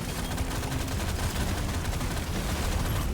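Explosions in Deep Rock Galactic Survivor: a loud, unbroken rattle of rapid blasts and crackling bursts, dense like heavy gunfire, filling the whole moment with no pauses.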